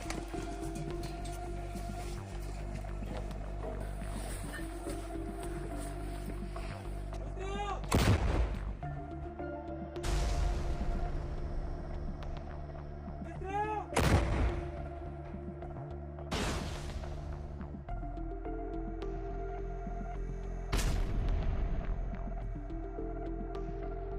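Artillery fires in bursts on a battlefield: several heavy booms at intervals over a constant low mechanical hum, with distant, echoing impacts.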